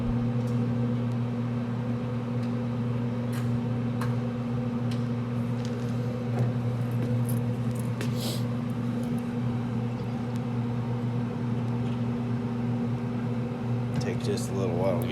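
Pit Boss pellet grill with its auger running after a repair: a steady mechanical hum with a low drone throughout, close by, plus occasional clicks and clunks.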